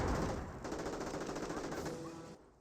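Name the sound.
gunfire in Company of Heroes video game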